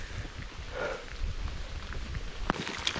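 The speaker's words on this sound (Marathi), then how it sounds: "आज पाऊस जोरात पडलाय ना," Heavy rain pours down on a misty trek along the old footpath to the Jotiba temple near Kolhapur, a dense, even hiss of falling water with a few sharper drop impacts and no speech.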